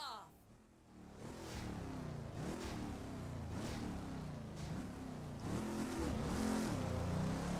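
Race cars launching from the start in the video game Test Drive Unlimited 2, engines rising in repeated revving surges that build louder over several seconds, with game music or effects layered underneath.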